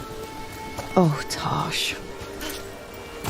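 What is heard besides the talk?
rain falling in a video game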